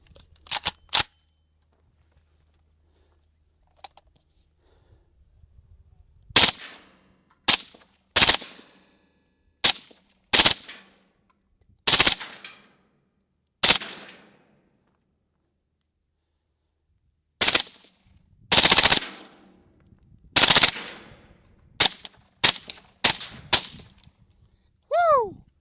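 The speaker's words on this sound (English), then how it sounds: "So I'm gonna try to bump fire a little bit and see what we can get." Bump-fired Galil Ace 13-inch 5.56 SBR rifle with an ALG trigger: sharp outdoor gunshots in scattered singles and fast rattling bursts, loud and close, separated by quiet pauses.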